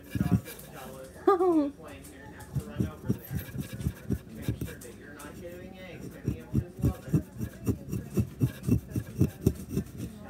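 A dig-it gemstone kit block being chiseled by hand, a series of rhythmic scraping strokes, close and steady, following a short voice at the start.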